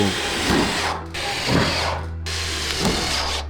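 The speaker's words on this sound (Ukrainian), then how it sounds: "для його закріплення використовуємо покрівельні шурупи, підібрані в колір матеріалу" Power drill driving coloured roofing screws into profiled metal roof sheeting on the frame of a floating house, three short bursts of whirring with brief pauses between, close and fairly loud.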